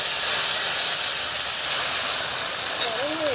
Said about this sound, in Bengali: তেলটা কিন্তু আমার গরম হয়ে গেছে, আর হাতে করে নেওয়া একটু জিরে ফোড়নে দিয়ে দেবো। আমি কচুটাও দিয়ে দেবো।